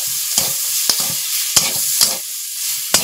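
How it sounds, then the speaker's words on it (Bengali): Potato with tomato and chilli powder frying in a pan, stirred vigorously with a spatula; sharp scraping clacks come every half second or so over a soft continuous sizzle, close up with no talking. "ভালো করে নেড়ে নিচ্ছি"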